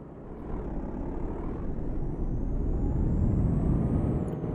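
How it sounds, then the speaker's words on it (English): A heavy truck in Euro Truck Simulator 2 slowing under hard braking, a steady low rumble of engine and road noise with a faint high whine above it, no talk. "I'm really having to stomp on these brakes to get slowed down"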